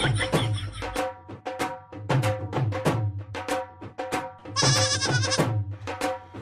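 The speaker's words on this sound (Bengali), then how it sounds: "বাহ কি সুন্দর ছাগল, পুরো বিদেশিদের মতো" Goats bleat repeatedly at close range, a series of loud, wavering cries in quick succession, one longer and higher call standing out near the end.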